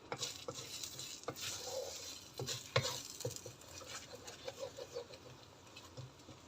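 Bread and egg stir-fry (roti goreng) cooks in a pan, with soft sizzling under frequent clicks and taps of a utensil scraping and stirring, close and steady.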